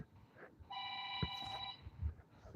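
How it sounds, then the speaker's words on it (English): A phone ringtone rings as a steady electronic tone of several stacked pitches, held for about a second under a noisy room background, with a soft thump partway through. "My phone's ringing."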